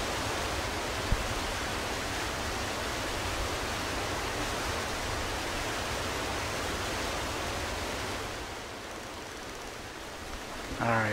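A waterfall in the video game Bigfoot, a steady, dense rushing wash of falling water that runs unbroken and fairly loud, then dips slightly toward the end.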